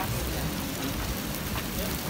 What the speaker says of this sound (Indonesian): Hujan guys, padahal terang langitnya.